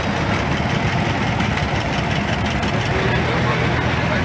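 A 1949 John Deere Model B tractor with a 20-horsepower engine at an old engine show parade, giving a loud, continuous low engine rumble that stays close and steady throughout.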